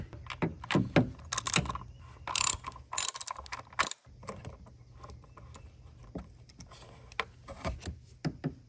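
A ratchet on a 10 mm bolt from the intake cover of a Chevrolet Colorado (2017-2022 model years) gives clusters of quick clicks, close and distinct, with pauses and small metallic handling noises between them.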